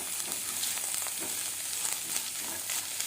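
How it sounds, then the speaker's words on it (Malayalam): Horse gram sundal mixed with ground coconut and dried red chilli masala is stirred in a hot pan, giving a continuous soft sizzle with light scraping from the spoon, close and steady with no talking. "ഇളക്കി യോജിപ്പിക്കാം."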